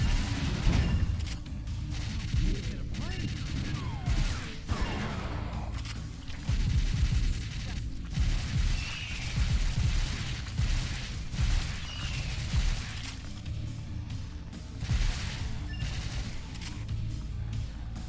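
Rapid gunfire in the arcade shooter House of the Dead Scarlet Dawn, loud shots crackling almost nonstop in quick bursts with brief gaps, layered with impacts and crashes throughout.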